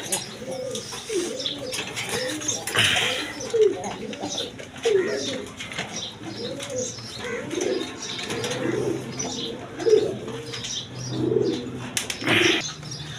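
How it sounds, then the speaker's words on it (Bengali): Indian Kakji pigeons at a pigeon seller's loft give repeated low cooing calls through most of the stretch, with occasional chirps and a brief wing flutter, while someone talks nearby over them. "এখানে একটা ইন্ডিয়ান কাকজি কবুতর আছে দেখেন"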